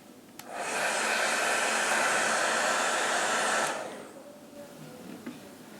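A handheld hair dryer blows a steady, close whoosh for about three seconds to dry bonding glue on a quick weave install, then switches off, leaving a quiet room.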